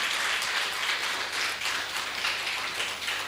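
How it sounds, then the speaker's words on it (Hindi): Loud, dense applause fills a hall at the Harihar Dhyan Mahotsav meditation festival, a steady continuous roar of many hands clapping throughout. "एक बार जोरदार तालियों के साथ"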